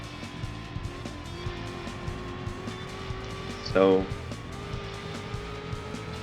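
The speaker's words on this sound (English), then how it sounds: "I'm using a concept car which is very fast. I'm driving 2 laps on this track" A fast concept car races on Tahiti Road in the video game Gran Turismo 2, its engine droning steadily throughout with a short tire squeal midway, while a voice speaks briefly.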